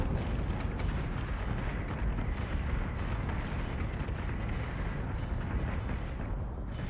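Ship weapons fire and explosions from the space combat video game Battlestar Galactica Deadlock form a loud, continuous barrage of heavy blasts and rumbling booms with no letup.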